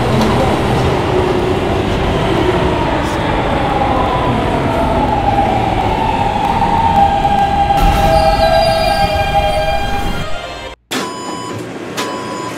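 A New York subway E train rumbles loudly along the track with a rising wheel squeal, then cuts off abruptly to a brief lull before the interior hum returns.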